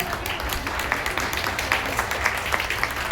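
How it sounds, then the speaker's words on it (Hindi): An audience applauds in a hall, a continuous patter of many hands with occasional sharper claps, moderately distant and steady. "जोरदार तालियां मैम के लिए।"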